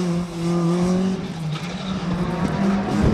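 Rally car racing hard on a circuit stage at Rockingham, its engine droning steadily and loud, with rising and falling pitch and a brief tyre squeal toward the end.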